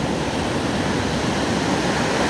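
Loud, constant rushing of big sea waves at Matnog, a dense wash of crashing water that never lets up, with no talking.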